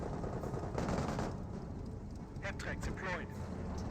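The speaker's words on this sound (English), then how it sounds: "The MG42 does get some AoE suppression there" An MG42 machine gun fires in a Company of Heroes 1 match, a rapid rattling burst mixed with other battle noise, under a commentator's voice that runs throughout.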